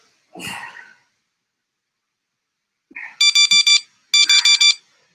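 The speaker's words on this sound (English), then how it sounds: "That buzzer is our water break." Two bursts of a loud, harsh electronic workout timer buzzer, each pulsing rapidly four times, following a short sneeze-like noise; no talking.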